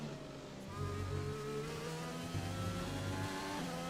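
A Formula 1 car engine in F1 2020 drones loudly and steadily, holding a high rev with slight pitch shifts and no talk over it.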